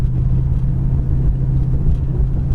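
A 1974 Plymouth Duster cruising down the road, its engine and tyre rumble steady and close, a low continuous drone with no voices.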